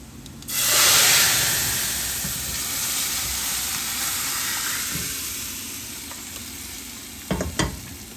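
Cooked dal poured into a pan of sizzling fried garlic sets off a loud burst of hissing and frying that settles into a steady sizzle, with a few clinks of a utensil near the end.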